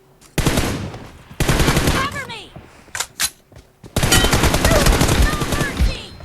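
Rapid automatic gunfire in the mobile shooter PUBG Mobile, several loud close bursts and single shots broken by short gaps, with a voice speaking briefly between the volleys.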